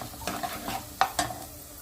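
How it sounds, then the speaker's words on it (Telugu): Cashews frying in ghee in a pan, a quiet sizzle broken by a few short stirring scrapes and clicks close by. "నెయ్యి వేసుకున్నాము. ఇందులో జీడిపప్పు వేసుకున్నాము."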